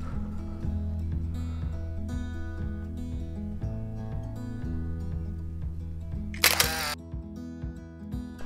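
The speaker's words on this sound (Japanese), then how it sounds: "ちょっと写真撮ります。" A camera shutter fires once on a winter day out at Kasumigaura, a single sharp click that rises briefly above steady background music.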